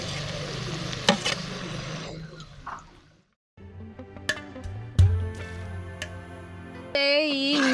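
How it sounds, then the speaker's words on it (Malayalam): Ginger and garlic sauté in a pan for a Kerala fish curry, giving a crackling sizzle with sharp stirring clicks and knocks, a brief silent gap, then renewed frying with occasional louder scrapes. "ഈ ഇഞ്ചിയും വെളുത്തുള്ളിയും എല്ലാം നല്ലതായിട്ട് വഴന്നിട്ടുണ്ട്."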